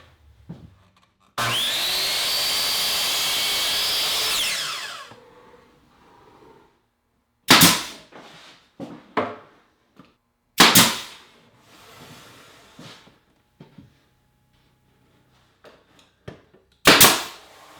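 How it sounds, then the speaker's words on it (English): A nail gun drives 1 3/4 nails to fasten a poplar face frame to a wooden bookcase cabinet, giving several sharp, loud isolated pops spaced seconds apart, preceded by a steady loud whine of a power tool or compressor. "I'll attach the face frame to the cabinet with a little wood glue and 1 3/4 nails in the nail gun."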